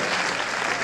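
A concert audience claps with dense, steady applause for a moment, loud and close, with no voices standing out.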